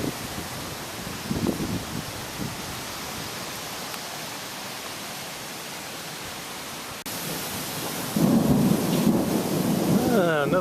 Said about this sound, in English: this is a rather impressive storm